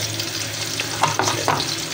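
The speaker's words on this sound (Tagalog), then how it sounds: "Lagyan na po natin ang ating sibuyas." Onions frying in a pan for sinigang na tilapia, a steady close crackling sizzle with a few sharper spatters and stirring scrapes near the end.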